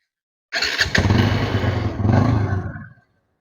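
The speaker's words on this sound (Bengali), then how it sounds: "বাইকটি স্টার দিই আমি" A Bajaj motorcycle in super condition at a bike market is kicked into life with a quick clattering start, then idles loudly and steadily for a couple of seconds before cutting out abruptly.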